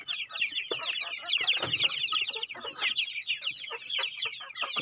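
Native chickens on a small farm cluck continuously and busily at close range, with overlapping calls from several birds and no talk.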